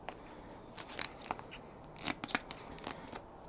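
Protective film is peeled off a UK registration plate for a Honda N-Box, giving faint, close, intermittent crackling and peeling snaps in short bursts over a quiet background.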